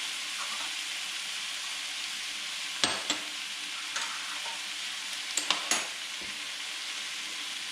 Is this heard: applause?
no